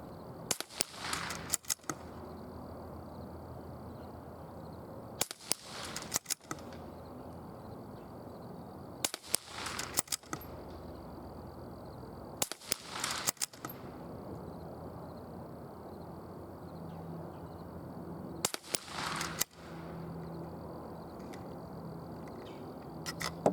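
Single rifle shots fired at a target through a Red Line Corsair optic, sharp loud cracks spaced several seconds apart, some shots in quick pairs, over quiet outdoor background.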